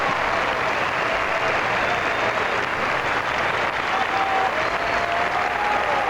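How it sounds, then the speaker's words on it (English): Standing ovation from the arena crowd at the 1984 Sarajevo Olympics after Torvill and Dean's free dance: sustained, dense applause from a large audience, roaring evenly and unbroken at a distance, with scattered whistles rising above it. "So far, it's the first and only standing ovation we've had."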